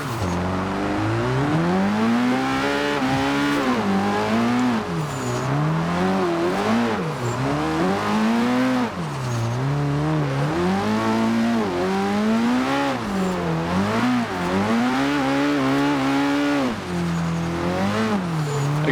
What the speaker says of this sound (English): I'm basically just drifting in second gear